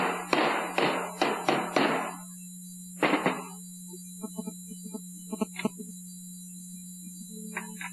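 Metal bushing inserts are tapped out with two sockets, giving a quick run of sharp hammer strikes followed by another burst and then lighter, scattered taps over a steady low hum.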